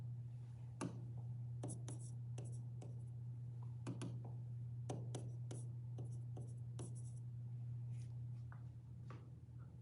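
Pen or pencil writing out a calculation on paper, a quiet series of short scratchy strokes in irregular bursts, close up over a steady low hum.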